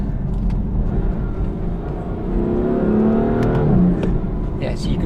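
A BMW M4 engine revs and accelerates from inside the cabin, its note partly artificial and played through the car's speakers, rising in pitch toward the end with someone talking over it.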